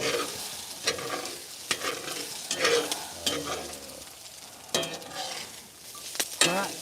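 Food in a cast iron pan on a hot tent stove sizzles while a spatula rasps across the bottom in repeated short scrapes, close up and loud, with no speech.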